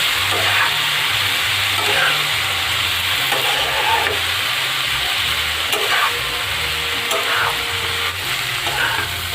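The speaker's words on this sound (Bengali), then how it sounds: "অল্প পরিমাণে জল দিয়ে খুব ভালো করে কষিয়ে নেব" Chilli and cumin powder spices sizzle and fry in a pan with a little water, a steady loud hiss broken by periodic scraping stirs, with no talking.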